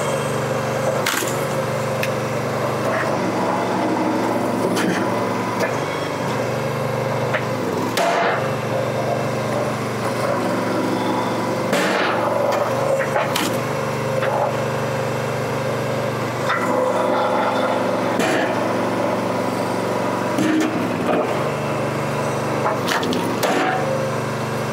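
A homemade push-through log splitter's engine runs steadily throughout at a loud, constant hum while wood is split, with sharp cracks and splintering snaps scattered over the drone.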